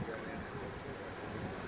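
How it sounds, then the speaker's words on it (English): Steady rushing wind buffeting the microphone, a constant broadband roar with no clear breaks. "Fairly windy here today, still quite warm."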